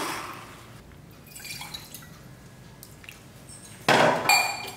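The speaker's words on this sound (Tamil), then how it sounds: "50 ml அளவுக்கு தண்ணி ஊற்றிக்குவோம்." Water poured into a cooking pan holding crushed jaggery in a home kitchen, heard as a soft, close trickle and splash with light clinks of metal, then a louder pour or splash near the end.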